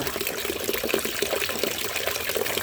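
Water runs in a steady, continuous stream into an orchid plant pot after potash has dissolved in it, with an even splashing rush throughout and no talking.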